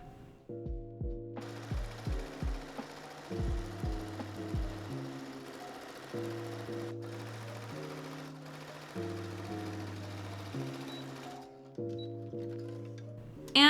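A sewing machine stitches lace wedding dress bodice and lining pieces together in repeated bursts, each run of close rapid stitching starting and stopping, with steady motor hum through the middle stretch.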